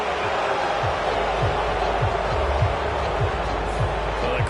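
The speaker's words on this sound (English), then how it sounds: "Well, the crowd doesn't like that." Stadium crowd in the video game Madden 23 roars in a broad, steady wash of disapproval, with a commentator talking over it and faint rhythmic thumps beneath.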